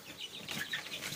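Young White Guard chicks, just moved to a new coop, cheep and cluck faintly, a soft scatter of thin chirps over a quiet, airy background.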